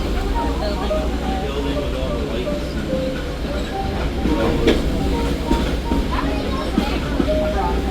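A Cooperstown and Charlotte Valley Railroad dinner train rolls along with a steady low rumble and scattered clicks of the wheels on the rails, heard from inside the car while a voice speaks over the noise.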